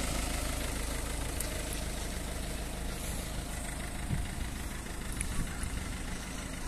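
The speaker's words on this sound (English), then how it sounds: "Very nice and quiet engine." A 1.6 diesel Ford Focus engine idles with a steady, even low rumble and a faint mechanical hum, close and unchanging throughout, with no voices.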